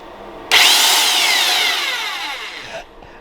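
An electric drill bursts on at full speed with a high whine, bores for about two seconds while slowly dropping in pitch, then cuts off.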